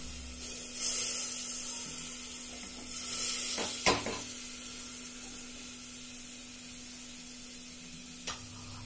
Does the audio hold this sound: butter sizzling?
yes